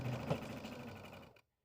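A sewing machine stitches fabric for a quilt block in a quick, steady mechanical whir, then stops abruptly into silence.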